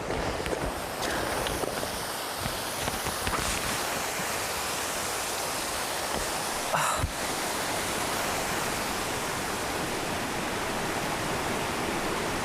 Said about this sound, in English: I love the sounds of bubbling brooks and gentle streams.